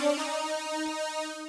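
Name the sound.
two-note chords played on a Juno synth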